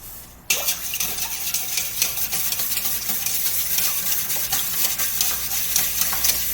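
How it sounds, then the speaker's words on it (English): Three eggs and milk being whisked in a bowl for bread pudding: after a brief quiet start, a steady, close, busy scraping and rattling runs on with no pause and no talking. "I'm going to beat them with a whisk until they're entirely blended with milk."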